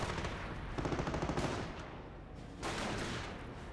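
Rapid machine-gun bursts and rifle fire, including G43 rifles, crackle through a Company of Heroes battle, loud and sustained with brief pauses between volleys.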